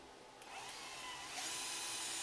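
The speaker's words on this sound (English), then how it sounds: "and then drill. I've got a nice piece of wood underneath," A power drill whines up to speed and bites into wood, the pitch rising and growing louder partway through; brief and close.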